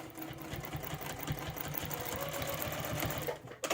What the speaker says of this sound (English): Pin it in place. And sew the bottom gusset seam.